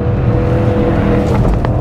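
Ford Focus RS MK3 four-wheel-drive hatchback under full load, its engine droning loud and steady from close inside the cabin, a dense low rumble with faint rattles over it.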